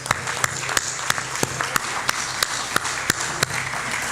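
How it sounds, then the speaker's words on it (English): A volunteer recognition event audience applauds steadily throughout, a dense wash of clapping at moderate level with a few sharper, louder claps standing out at a regular beat. "let's give them another big round of applause"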